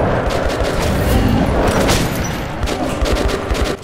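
Shotgun blasts fired at monsters in the video game Metro 2033 Redux, with several loud booming shots and rapid gunfire crackle over a dense, chaotic combat din.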